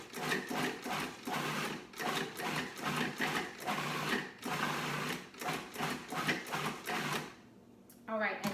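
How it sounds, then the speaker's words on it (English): A food processor pulses spinach leaves in a home kitchen, about a dozen short loud bursts of whirring blade noise in quick succession with brief gaps, then the motor stops near the end as a voice begins. "I'm just gonna pulse this a few times and let the processor process the"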